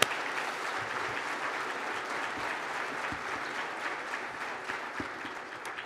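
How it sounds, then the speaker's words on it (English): An audience at a State of the City event in Portsmouth, Virginia, gives a long, even round of applause for visiting mayors, with steady dense clapping that fades slightly toward the end. "Let's give these mayors a round of applause."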